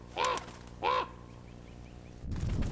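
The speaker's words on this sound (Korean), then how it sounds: "까마귀의 시끄러운 울음소리를 듣고" Two loud, harsh crow caws ring out about half a second apart in Mongolia, followed by quieter faint calls and then a rustling, gusty background.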